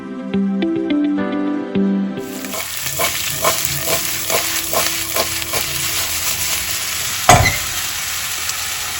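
Vegetable biryani with peas fries and sizzles in a pan while a spoon stirs it in repeated scraping strokes, steady and close, with a louder clatter near the end and a brief musical jingle at the start.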